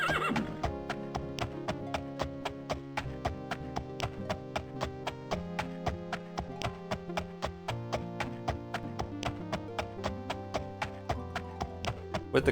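A horse walks in the Daggerfall video game, giving a steady, evenly spaced clip-clop of hooves with one beat roughly every third of a second, crisp and moderately loud, with no voices.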